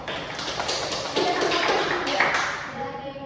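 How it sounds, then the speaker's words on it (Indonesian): Applause from a classroom group, with a scattered patter of hand claps running steadily under a teacher's voice speaking over it. "berikan aplaus untuk kelompok 1"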